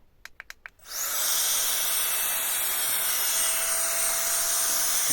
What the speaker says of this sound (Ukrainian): От там стоїть такий потужний вентилятор.